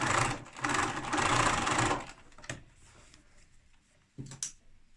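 A sewing machine stitches a fabric bookmark in a loud two-second burst, then falls to a quieter hum with a couple of short mechanical clicks and a final brief whir.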